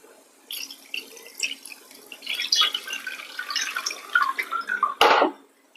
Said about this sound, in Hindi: थोड़ा थोड़ा पानी ऐड करते हैं छेने में, साफ कर लेते हैं